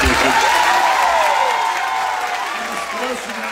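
An audience applauds at a live band concert in Alcobaça, Bahia, with a dense wash of clapping and a voice carrying over it throughout.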